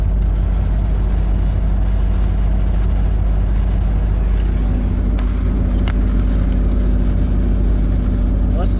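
Chevrolet squarebody Suburban cruising on a highway, with a steady loud engine and road drone filling the cabin throughout and people talking over it.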